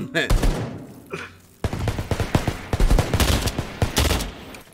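Gunfire in the video game Earthfall, a rapid run of loud, dense shots going on for most of the stretch after a short pause near the start, with voices and laughter mixed in.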